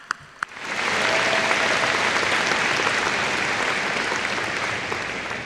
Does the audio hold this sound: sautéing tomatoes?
no